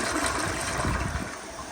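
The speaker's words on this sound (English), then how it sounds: "Okay, here's a flush." An American Standard Yorkville toilet from 2012 flushes in a steady close rush of water that swirls and gurgles throughout, with no talking.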